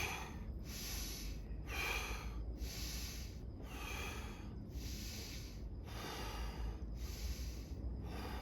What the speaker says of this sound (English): I invite you to deepen your breath and intensify the breath.